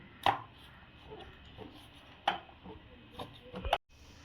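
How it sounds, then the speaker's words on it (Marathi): A knife cuts leftover chapati into pieces on a board, with three distinct sharp chops spread apart and faint scraping in between, heard close and quiet. "बघा आपण उभे कट करून घेतले आता परत ह्या साईडने असं मधून कट करून घेऊ"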